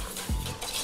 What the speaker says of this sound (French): Et là, on vient mélanger.